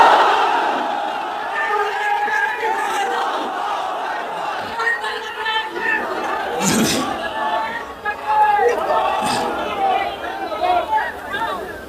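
A large crowd at Baitul Mukarram roars a unified battle-cry response to the Naraye Takbir chant, a loud sustained mass of shouting voices with swelling peaks over several seconds.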